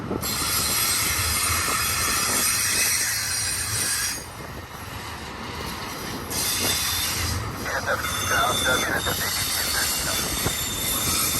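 A BNSF eastbound intermodal freight train of J.B. Hunt containers rolls past close by, steady loud rumble with squealing wheels and shifting metallic screeches throughout.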